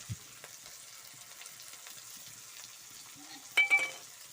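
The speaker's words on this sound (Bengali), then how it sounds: "এগুলো একটু ভালো করে ভেজে নেব।" Chili, coriander, turmeric and other ground spices fry in a pan for fish curry, giving a faint, steady low sizzle, with a brief metallic clink of a utensil near the end.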